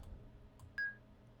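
A single short electronic plink from the video game Myst rings out once, clear and bright, over a quiet background hum.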